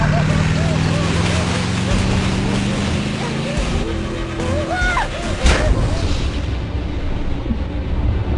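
Motorboat being driven in a dubbed action movie scene, a loud continuous engine roar mixed with water rush, shouting voices and dramatic background sound.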